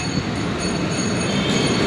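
A long train rolls past nearby, a loud, steady rumble of wagons and wheels on rails that holds throughout with no voices.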